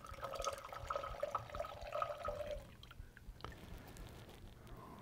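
Wine pouring into a container, a steady close liquid stream gurgling for a couple of seconds before trailing off into quieter drips and faint handling sounds.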